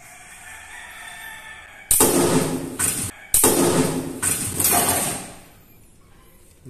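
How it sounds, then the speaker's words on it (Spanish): A professional spearfishing speargun loaded with two bands fires with a loud, sharp release, followed by a second burst of clattering, rattling impact noise, both close and strong before fading to quiet. "vamos a proceder a disparar el arpón con dos ligas nada más"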